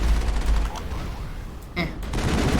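Turret gunfire in Mass Effect crackles in dense rapid bursts with booming low-end thumps, briefly easing before a sharp impact and another loud burst, with a voice speaking faintly beneath.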